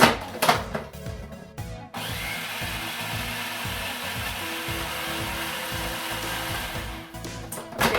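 A food processor chops rolled oats into coarse meal for chocolate chip cookie dough: a few short pulses, then a steady loud whirring motor run with rattling contents, ending in another quick burst.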